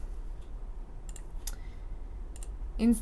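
A computer mouse clicks in a recording-software session, with a few faint, crisp clicks, including quick pairs, over low room hum and near silence.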